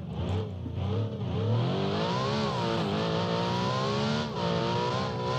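Racing car in a video game, a loud continuous engine whine climbing and shifting pitch as it accelerates hard, close and steady with no talk over it.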